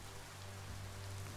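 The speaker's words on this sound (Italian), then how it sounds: "Piove." Steady rain falling in the video game Biomutant, an even broadband hiss of drops on surfaces with a low ambient hum underneath, holding constant throughout with no voices.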